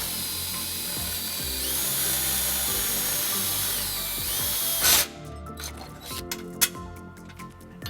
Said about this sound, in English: We're just going to drill the first hole using a 3/16 drill bit.